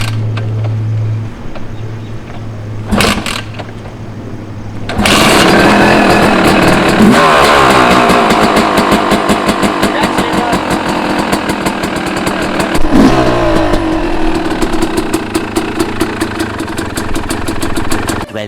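A Yamaha YZ250 two-stroke dirt bike, freshly rebuilt top end, kicks over and fires to a loud, crackling, uneven idle that rises and revs with sharp throttle blips, all close by.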